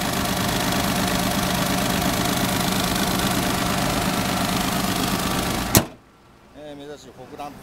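Engine of a 2011 Suzuki Wagon R FX running steadily in its engine bay, a loud even rumble heard up close that cuts off abruptly with a thump, followed by someone speaking.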